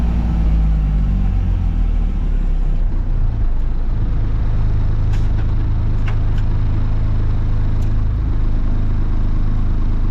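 A 1988 Mack DM dump truck with a Double Overdrive 13-speed transmission pulls off in first gear, its engine giving a loud, steady low rumble heard from inside the cab, with a few faint clicks near the end.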